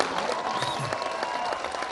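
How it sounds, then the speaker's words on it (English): Sustained applause from a crowd at the Sauti Kuu Centre launch, a dense, even roar of clapping hands filling the whole stretch at steady loudness. "A round of applause, everybody."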